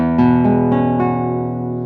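High-end classical guitar plucked close up, several rich notes ringing and overlapping in a short, full-bodied phrase with no talking.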